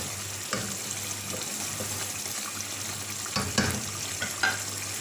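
Mutton masala with ginger, green chillies and coriander being stirred in a pan over a steady low sizzle, with a few scraping stir strokes standing out briefly.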